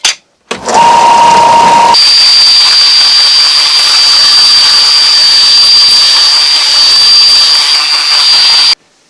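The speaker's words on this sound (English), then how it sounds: "go to my oscillating sander and smooth that edge over" An oscillating sander smoothing a wood edge on a bandsaw circle-cutting jig, a loud steady high-pitched whine that starts after a brief click and runs unbroken for about seven seconds, close to the microphone, with no talking.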